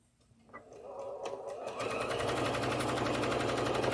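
A sewing machine starts up piecing a quilt block, a few slow stitches then accelerating into a fast, steady mechanical whirr and rapid needle clatter, close by with no talking.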